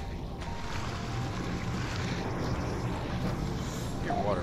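Steady watery rushing and sloshing in the submarine video game Barotrauma, a broadband wash that stays fairly loud and continuous throughout, with a brief higher chirp near the end.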